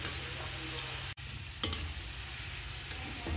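Amla, Indian gooseberries, frying in oil on low heat, a steady close sizzle with a brief clatter of stirring partway through and no voices.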